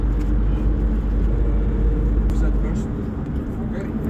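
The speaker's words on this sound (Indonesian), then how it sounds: "Dan kita naik bis ya." A tour bus drives through Istanbul, its engine and road noise forming a steady, loud interior drone, with people talking over it.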